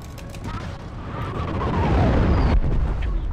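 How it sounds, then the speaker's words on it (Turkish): A rumbling, roaring blast builds and swells over a few seconds, with crackling debris and a brief whistling tone, as an aircraft blows up in War Thunder. "Biz vurmadık ama patladı uçakta."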